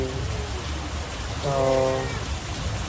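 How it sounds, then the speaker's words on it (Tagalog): Heavy rain falling outside a shop, a steady loud hiss throughout, while someone talks over it. "Grabe talaga umuulan."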